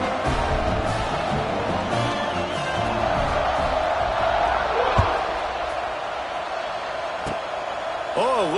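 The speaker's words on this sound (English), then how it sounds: "You think this crowd's going to get loud when their defense comes on the field?" Madden 25 stadium crowd: a constant, dense roar of cheering spectators filling the background, with a thud and occasional whoops, under commentators talking.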